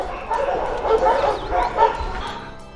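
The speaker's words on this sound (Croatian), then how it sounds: "Kažem, tu pasa i pasa," Dogs at an animal shelter in Rijeka bark, yip and whimper together in an overlapping chorus close by. A person speaks over the noise.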